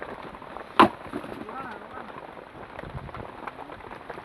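Rain falls outdoors as a faint, steady patter with a low murmur under it. One sharp knock sounds near the start.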